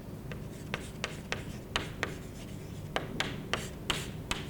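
Handwriting while taking notes: quiet pen strokes on paper tap and scratch in an irregular rhythm, faint and close, with no talking.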